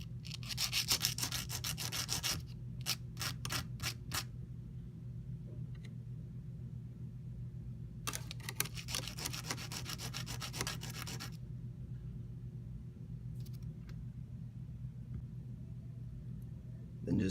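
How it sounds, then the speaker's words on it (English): Sandpaper smooths the rough cut edge of a diecast toy car axle in two spells of rapid, close rasping strokes, separated by a quiet pause over a low background hum. "go ahead and sand down the rough edge"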